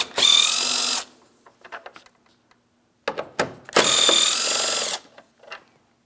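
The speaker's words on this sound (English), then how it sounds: "Let's remove our 10mm bolts." A power tool whirs in two loud bursts of about a second each while removing 10mm bolts from the front bumper cover of a 2007-2014 Ford Edge, with small clinks and handling noises between them.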